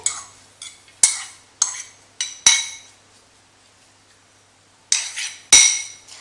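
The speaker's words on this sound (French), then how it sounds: "Je vais hacher grossièrement, auquel je vais rajouter de l'échalote hachée." A knife roughly chops parsley and shallot on a board in a few sharp, separate strikes, each with a brief ringing decay, then a pause and two more cuts.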